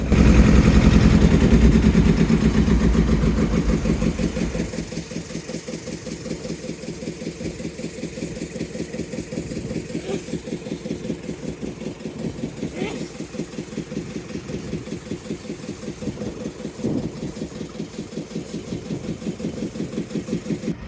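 A fishing trawler's diesel engine idles in the Sundarbans after the boat stops, a loud steady low chugging rhythm that settles from a heavier rumble into an even, repetitive knock with a few faint clanks.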